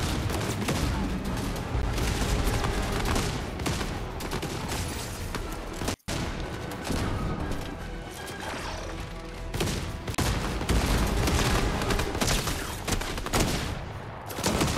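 Rapid bursts of Fortnite gunfire crackle almost continuously, dense and loud, with a brief break in the middle before the shooting resumes.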